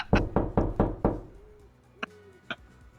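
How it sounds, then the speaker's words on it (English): Five quick heavy knocks in a steady rhythm, like fists banging on a door in the game Dual Universe, followed by two lighter isolated knocks after a pause. "Thought my neighbor was banging on my door or something on my floor"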